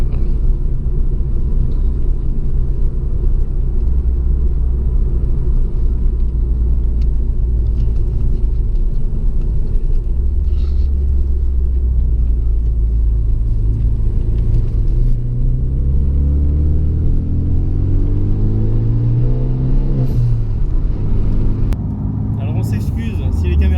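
A Renault Mégane 3 RS rumbles deeply while driving, a loud steady engine drone heard from inside the car that climbs in pitch under acceleration, with voices talking over it.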